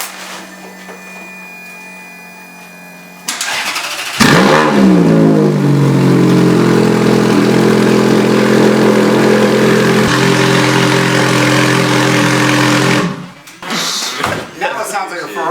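Ferrari F430 with straight-pipe exhaust starting up after a quiet hum: loud, raw, sustained revving for about nine seconds, then cutting off abruptly with clatter and noise afterward. People talk around it.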